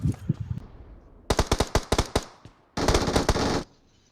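Gunfire in the mobile battle royale game BGMI: a few scattered shots, then a run of sharp, loud single shots, followed by a dense automatic burst that stops abruptly.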